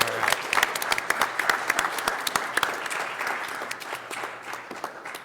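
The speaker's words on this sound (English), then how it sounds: "So let's give them one more hand of applause." An audience at a city council meeting gives a round of applause, dense steady clapping from many hands that carries on for several seconds before slowly thinning out.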